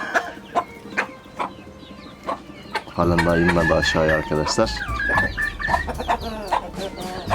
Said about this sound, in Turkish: aha bir horoz geliyor arkadaşlar